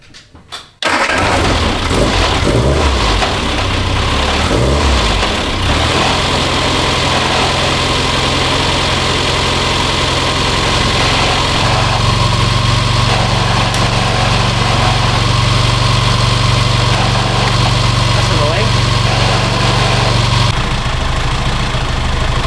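A 1967 MG Midget's engine cranks briefly, then catches and settles into a loud, steady idle with a deep low rumble that runs without a break, slightly shifting in pitch partway through.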